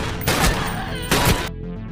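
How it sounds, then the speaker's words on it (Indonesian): Gunfire in a film scene as one attacker shoots a woman from behind: two loud, close bursts of shots, the second about a second after the first, over a dense action soundtrack that cuts off abruptly at the end. "Vinny muncul lalu menembak Lady dari arah belakang"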